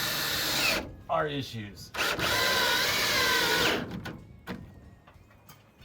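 A power drill drives screws into orange brackets for a wood splitter, with loud close whirring bursts that rise and fall in pitch, and a person speaking briefly between them.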